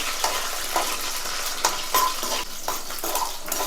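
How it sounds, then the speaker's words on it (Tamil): A handful of peeled garlic sautés in hot oil for Tamil fish kulambu, giving a steady, close sizzle broken by scraping stirs and a few light utensil taps. "நம்ம சேர்த்துருக்கிற பூண்டு லைட்டாக நல்லா ப்ரௌன் கலரில் மாறணும். அது வரைக்கும் இது நல்லா வதக்கிக்கலாம்."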